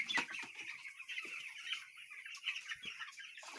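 Broiler chickens in a poultry house cluck steadily in a dense, continuous flock chorus, with individual clucks and calls overlapping close by, no talking.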